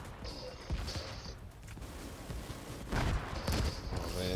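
A mounted big gun firing in The Division 2 raid Iron Horse: two short rattling bursts of heavy gunfire at moderate loudness over a steady mechanical game background, with a thin high tone ringing beside each burst.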